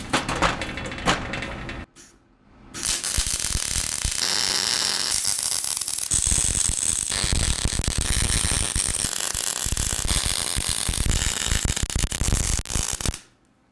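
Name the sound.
welding a differential housing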